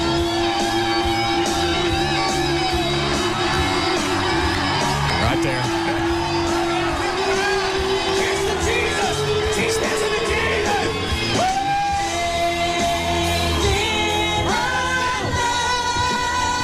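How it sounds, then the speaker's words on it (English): A large crowd yells, whoops and cheers without pause at a live event, loud and dense throughout, with a voice speaking over the din. "Listen to the crowd."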